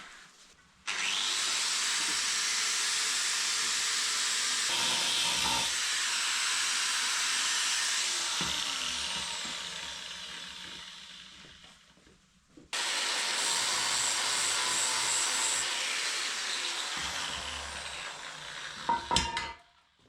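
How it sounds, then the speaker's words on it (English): A cutting tool slices away an exhaust flange so it can be turned and welded back, a loud continuous abrasive roar running in two long passes with a brief pause between them. "now we need to cut away the flange and turn it and weld it back together"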